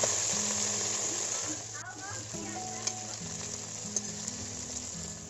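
Small fish sizzle in oil in a kadai, a steady broadband frying hiss that runs throughout. A few faint clinks sound over the top, and a voice hums or speaks softly beneath the frying.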